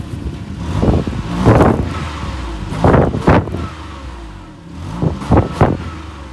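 A 2002 Lexus RX300 V6 engine revs repeatedly while parked, several sharp throttle blips rising and falling in quick succession, loud and close with idle between bursts.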